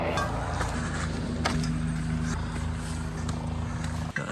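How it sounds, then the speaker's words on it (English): A car rolls up close on a Trans Catalina Trail hiking route, its engine and tire noise a steady loud rumble mixed with wind and a faint steady drone, a sudden thump near the end. "a car comes up beside me"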